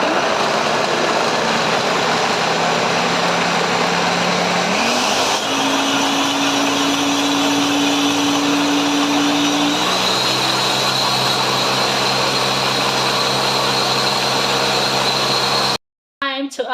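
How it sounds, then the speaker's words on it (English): A blender whirs loudly through bean koose mix, a steady motor drone that shifts pitch partway through as the load changes, then cuts off abruptly near the end. "Cover it up and blend away. So we're going to blend this."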